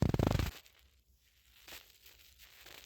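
Crochet yarn being cut for a granny square, a brief loud snip-and-tug burst at the very start, then only faint low rustling and near-silence.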